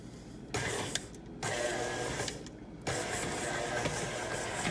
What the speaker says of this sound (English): this is normally where I would let the machine work, kneading it all together